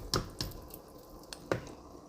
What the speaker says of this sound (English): now it's time to add the meat to the spaghetti.